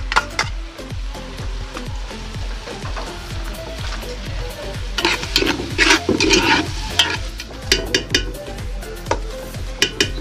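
Hotdogs frying in margarine with garlic and onion in a pan: a steady sizzle with frequent scraping and stirring clatter from a utensil against the pan, close up and with no talking.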